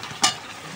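Fried potatoes tipped into sizzling masala in a pan while cooking chicken curry: one short, bright scrape-and-sizzle burst over a low background hiss.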